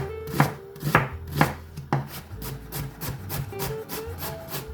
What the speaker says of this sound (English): I'm gonna fine dice them